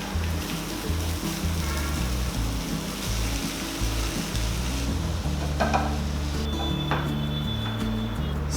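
Veg chowmein noodles tossed in a hot pan with soy sauce and black pepper, a loud continuous sizzle with repeated stirring and scraping strokes, close and without speech.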